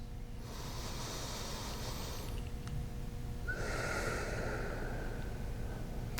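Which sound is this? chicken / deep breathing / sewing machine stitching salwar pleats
deep breathing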